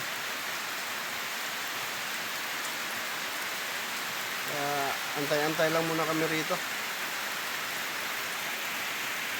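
Heavy rain pours steadily on a tent on a mountain in a dense, hissing wash, while a person speaks briefly partway through.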